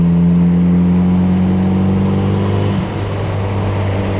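A car engine drones loudly at a steady pitch, then its tone drops and shifts as the revs change, close and continuous.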